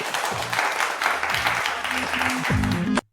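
Audience at a summit session claps steadily for several seconds while someone speaks over the applause, before the sound cuts off abruptly.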